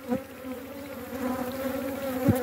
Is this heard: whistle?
no